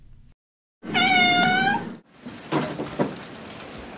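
A feral cat from a street colony gives one loud, drawn-out meow, followed by rustling and light knocks nearby.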